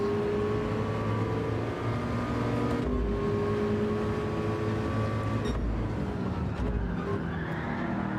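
A race car in Gran Turismo 7 drones at high revs with steady engine whine, then drops pitch abruptly in several quick downshifts, each marked by a brief low thump, close and continuous without talk.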